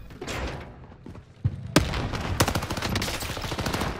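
Gunfire in a shooter video game: a quiet stretch broken by a single sharp shot, then loud cracks and rapid automatic fire that keeps rattling on to the end, with no voices.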